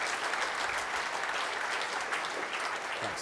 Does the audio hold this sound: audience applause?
yes